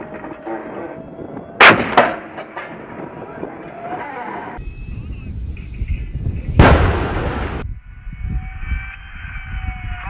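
An M1A2 Abrams tank main gun firing twice, each a sharp, very loud blast with a booming tail, separated by several seconds of wind and engine rumble, with soldiers' radio voices faintly in between.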